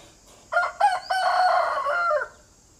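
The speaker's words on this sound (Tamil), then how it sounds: "நம்ம சேவல் பாருங்கள்." A rooster lets out one loud, close crow, a few choppy notes followed by a long drawn-out call against a quiet background.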